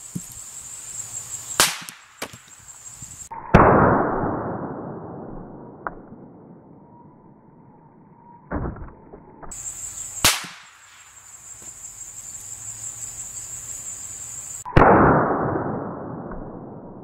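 Gunshots fired at a baseball, three sharp loud cracks spaced several seconds apart, each trailing a ringing decay, with clanks, handling clatter and hearing-protection hiss in between.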